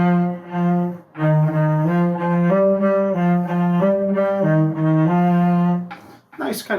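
A cello plays a jaunty passage from the Gavotte in C Minor, a bowed sequence of sustained, lilting notes that sound near and warm, ending with a brief rustle.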